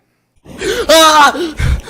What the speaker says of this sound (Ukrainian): в мене різні види криків є